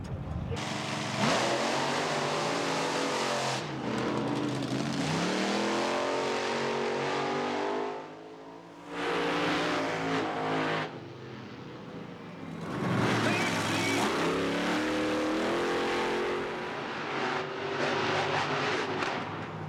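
Monster truck engines rev and roar through a racing run at the Monster Jam World Finals, loud and continuous with pitch rising and falling as the trucks accelerate, a brief dip midway, and crowd and commentary mixed beneath.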